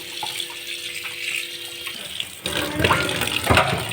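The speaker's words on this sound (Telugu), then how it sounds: "ఉప్పు వేసి బాగా కడుక్కోవాలి" Fish is washed with salt under a running kitchen tap, giving a soft trickle that swells into a stronger splashing gush halfway through, with handling noises in the water.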